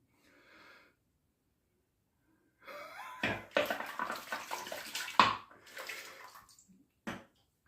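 Running water rinsing a shaving brush under a tap, a splashy, close stream that starts a few seconds in and flows with brief bursts and a final short splash.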